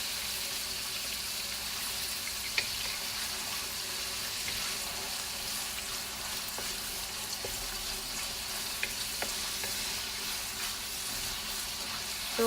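Meat for drunken noodles sizzles and fries steadily in a pan, a continuous hiss with occasional small pops and clinks over about twelve seconds.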